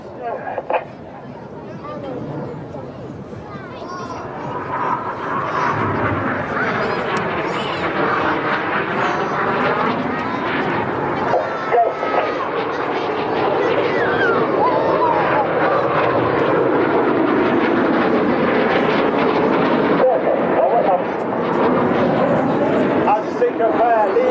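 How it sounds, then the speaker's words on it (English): RAF Red Arrows jets performing barrel rolls at an airshow display: a continuous, fairly loud jet roar that swells and shifts in pitch as the aircraft pass, mixed with distant crowd noise and a commentator speaking throughout. "Each aircraft will perform a barrel roll."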